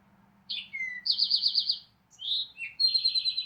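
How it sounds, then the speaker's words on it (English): An Eastern Towhee song played back by an IdentiFlyer Lyric bird-song device: crisp whistled notes followed by a fast trill, repeated twice in clear phrases over a faint low hum. "For example, the Eastern Towhee. Eastern Towhee, drink your tea."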